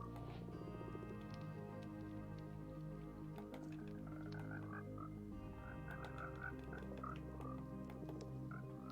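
Frogs croak in Minecraft, a steady stream of repeated bubbly croaks and drips at moderate volume over a constant low game ambience, with no talking.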